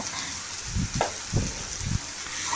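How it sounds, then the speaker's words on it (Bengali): Chopped onions sizzle in oil with bay leaf, cumin seeds and a pinch of salt, browning for an egg curry: a soft continuous fry overlaid with a few dull stirring knocks. "এবার পেঁয়াজটাকে সুন্দর করে ব্রাউন কালার করে ভেজে নেব"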